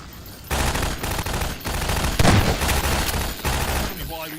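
Rapid bursts of gunfire from Half-Life 2 ring out loud and close, repeated volleys filling nearly the whole stretch after a short quiet opening, ending in a brief lull.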